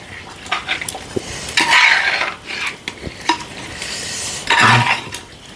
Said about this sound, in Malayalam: ഒന്ന് ഇളക്കി നല്ലപോലെ ചൂടാകട്ടെ